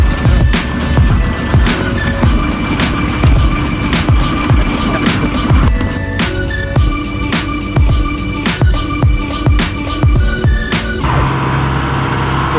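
A boat engine drones steadily and loudly the whole way through, with rhythmic knocking and thumps over the rumble.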